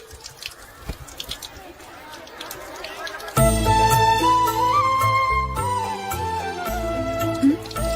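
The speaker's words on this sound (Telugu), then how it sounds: "ట్యాప్ పాడైపోయింది. నీళ్లు చూడు ఎలా వేస్ట్ అయిపోతున్నాయో" Water runs from a broken household tap as a close, hissy flow for about three seconds, after which loud music takes over.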